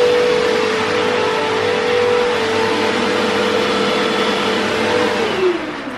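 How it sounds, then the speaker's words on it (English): A Hoover vacuum cleaner drones steadily and loudly nearby, a continuous whine that holds level and then drops slightly in pitch near the end, heard alongside a two-week-old cocker spaniel puppy. "She's listening to the Hoover."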